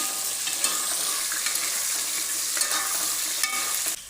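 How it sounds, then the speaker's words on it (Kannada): Onion and green chili frying with whole spices in a pan, a steady bright sizzle throughout with occasional soft stirring scrapes, close and continuous, no talk. "ಈರುಳ್ಳಿ ಮತ್ತೆ ಹಸಿರು ಮೆಣಸಿನ್ಕಾಯಿನೂ ಕೂಡ ಹಾಕಿ ಸ್ವಲ್ಪ ಚೆನ್ನಾಗಿ ಫ್ರೈ ಮಾಡ್ಕೋಬೇಕು"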